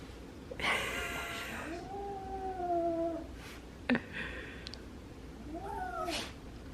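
Young kitten meowing and crying indoors, several drawn-out, wavering meows spaced apart, moderately close but fairly quiet against a faint background hiss.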